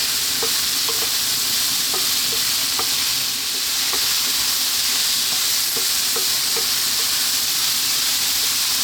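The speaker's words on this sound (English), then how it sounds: "Another 3 minutes, high heat, stirring pretty much all the time." Courgette and mixed vegetables fry on high heat for a creamy baked pasta, with a loud continuous sizzle and a series of light spatula taps and scrapes as they are stirred, close up and with no speech.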